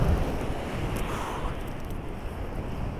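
Strong wind roars across the microphone on Lunan beach in the evening, with big waves surging and breaking underneath in a steady, unbroken wash.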